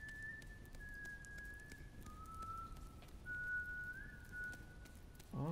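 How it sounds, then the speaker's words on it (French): Whistled tune in the video game Ghost of a Tale, a thin, clear melody of sustained notes gliding between pitches, steady and moderately loud over a low ambient rumble, with a soft thump at the very end. "Oh, ça siffle ici."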